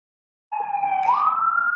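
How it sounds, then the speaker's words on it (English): Emergency vehicle siren outside, a loud wailing tone that starts abruptly after a moment of silence and sweeps upward in pitch, heard without any talk. "Sorry, there's a siren"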